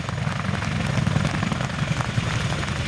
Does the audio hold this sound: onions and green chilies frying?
no